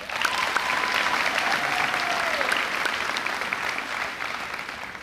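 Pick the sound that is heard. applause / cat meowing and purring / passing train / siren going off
applause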